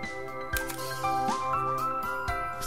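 Shutter release on a Canon FT film SLR camera, a short mechanical clack with a bright metallic ring that lingers briefly, heard close and alone.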